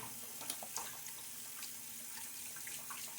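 A tap runs steadily into a sink while a shaving bowl is rinsed, a continuous close splashing rush with small irregular spatters and no voices.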